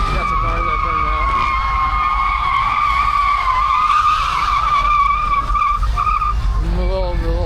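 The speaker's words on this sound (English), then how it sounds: "we got some cars that burned out." At a night car meet and cruise in the Bay Area, a car does a burnout, with loud sustained tire screeching and a revving engine underneath, wavering in pitch, while people talk and shout nearby.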